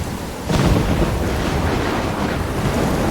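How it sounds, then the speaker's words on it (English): Thunderstorm in the video game Life is Strange: heavy, steady roaring rain and wind, with a rumbling surge near the start, loud and continuous with no speech. "I'm trapped in a storm?"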